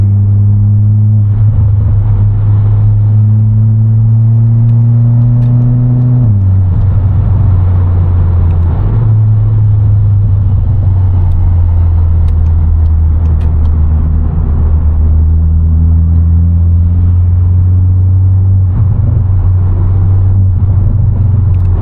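A 280 hp VW Polo GTI hot hatchback engine rumbles and drones steadily at low pitch while driving at night, with gear changes and shifting revs and an uneven burbling exhaust note throughout.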